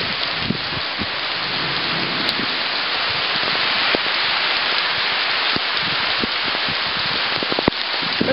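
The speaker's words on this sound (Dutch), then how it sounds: "Het regent hier." Heavy rain pours down steadily at Cas Abao during a stormy downpour, a dense, loud hiss with scattered close drips and splashes popping out throughout.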